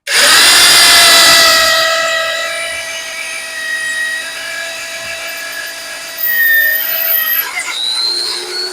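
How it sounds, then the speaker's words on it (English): A power drill fitted with a reamer bores a half-inch hole in a Mack Cruiseliner truck while a mudflap bracket is fitted: a loud, steady high whine that surges at first, settles into a continuous grind, then picks up again near the end. "I'm just letting the drill pull itself in, or the reamer pull itself in."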